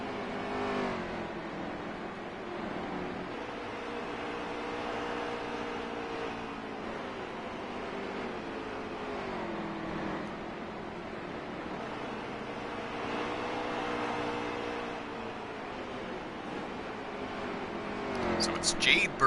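Stock cars race at Bristol in NASCAR Heat 3, engines droning and shifting pitch as the pack laps, steady and mid-distance beneath continuous commentary.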